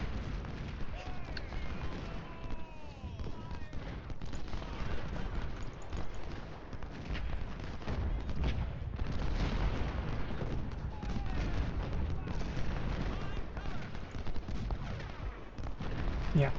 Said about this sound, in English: Bring the artillery forward.